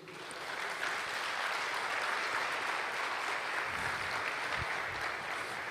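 A church congregation applauds during a sermon, an even, dense roar of clapping hands that holds steady throughout, fairly loud and filling the hall.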